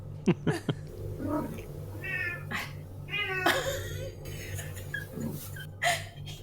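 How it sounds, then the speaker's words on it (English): A cat meows and wails several times, drawn-out cries rising and falling over a steady low hum, with a few sharp knocks early on. "and the cat's wailing"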